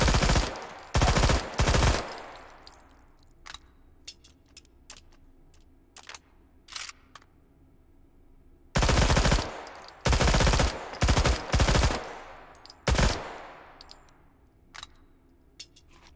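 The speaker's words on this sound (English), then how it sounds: "Let's take out the suppressor. I want to hear some shots." Unsuppressed gunfire in the VR game Hot Dogs, Horseshoes & Hand Grenades: sharp, loud rapid bursts and single shots, each trailing off in a ringing echo, separated by quiet pauses.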